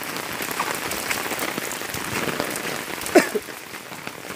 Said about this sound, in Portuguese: Quero mostrar pra vocês a chuva.